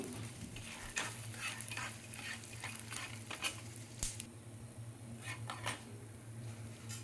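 Coriander seeds and peanuts frying in oil in a pan for cabbage chutney, a steady soft sizzle with occasional scraping stirs and faint clinks, heard alone.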